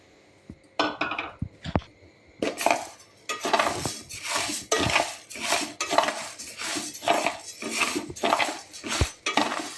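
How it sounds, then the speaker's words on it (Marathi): Wheat grains dry-roasted in a pan for methi ladu are stirred with a utensil, giving steady, rhythmic scraping and rattling strokes that repeat close up, with no talking. "आपण गहू भाजून घेऊया"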